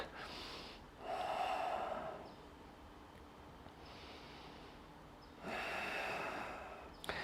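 Slow, audible breaths during a yoga twist stretch, long airy inhales and exhales rising and fading in a relaxed rhythm, close and quiet with no talking.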